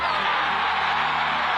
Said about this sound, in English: It's the roar of the crowd